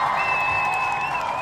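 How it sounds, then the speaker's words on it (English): Applause from an audience at a live event, a brief steady crowd clapping with a sustained high tone running through it and faint voices underneath. "we want to give all the Nia babies a round of applause"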